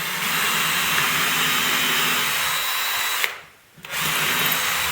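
Rotary tool mounted in a homemade drill press drilling through a workpiece, a loud steady high-pitched whine close by that cuts out briefly as the bit breaks through, then spins back up.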